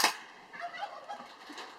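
A G&G Chione winter white EBB M4 airsoft rifle on a 9.6 volt battery fires a short full-auto burst, a quick faint rattle of rapid shots heard close and alone.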